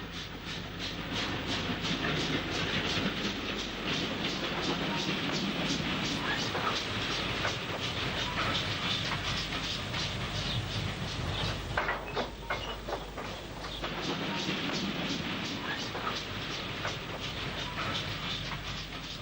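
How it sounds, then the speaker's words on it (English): A steam passenger train hauled by a 264 tank locomotive runs along a line near Alton Towers, a continuous loud rumble and hiss with rapid rhythmic clatter of wheels over rail joints. "This view of a passenger train out on the line, hauled by another 264 tank"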